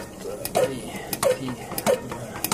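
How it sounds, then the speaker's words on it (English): Hand-pumping the fuel tank of an Optimus 111 stove gives a series of about four soft mechanical squeaks and clicks, each stroke evenly spaced and close by, with quiet handling noise between. "I like to pump up the tank. So I pump 12 times."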